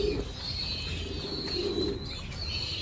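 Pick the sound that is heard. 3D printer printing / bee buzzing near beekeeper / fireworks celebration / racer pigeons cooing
racer pigeons cooing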